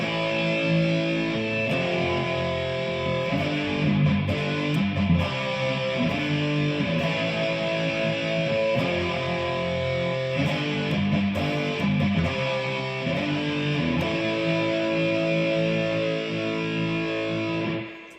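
Heavily distorted electric guitar chords from the chorus of a song chug in a steady driving rhythm, loud and sustained throughout, with brief chord changes and no voices.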